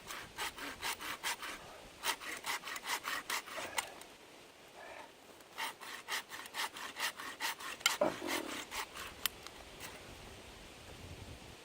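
A small hand saw cuts through wood for off-grid cooking fuel in quick, rhythmic back-and-forth strokes that carry on steadily throughout. The rasping is close and clear, with brief pauses between runs of strokes.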